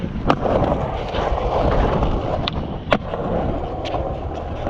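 Skateboard rolling across concrete at a windy Seaford skatepark in Melbourne, with sharp clacks and impacts from hitting a four-stair set, the wheels rumbling steadily and wind buffeting the microphone.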